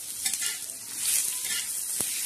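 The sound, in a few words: crushed coconut and garlic roasting in a pan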